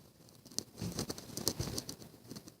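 Rain pattering outside on a rainy day, close and steady with irregular soft drops and crinkly taps, light and continuous with no one talking.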